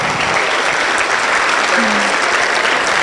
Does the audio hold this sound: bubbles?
no